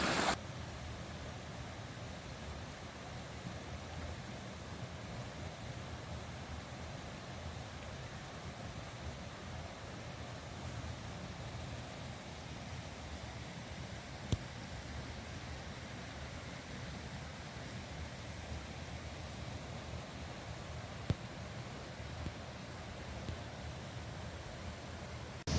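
Water rushes steadily through the Wood of Cree waterfall, a continuous even wash of noise that holds level for the whole stretch with no voices.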